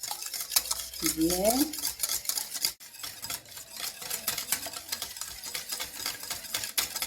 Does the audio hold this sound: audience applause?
no